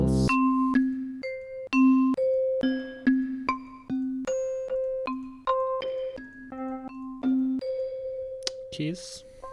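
Melodic bell tones from a one-shot sample kit called Preludia play in a bright sequence of struck notes with ringing overtones over a soft low drone, a louder bell hit landing near the end.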